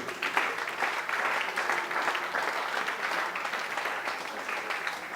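A church congregation applauding for the police during a pastor's sermon, a steady mass of clapping with a few voices mixed in, continuous and moderately loud from start to finish.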